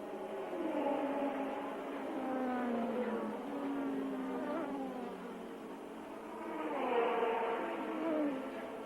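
Formula 1 race cars at the Austrian Grand Prix, with Ricardo Patrese's car among them, heard as a distant, wavering high engine whine that rises and falls across the clip under a steady broadcast hiss.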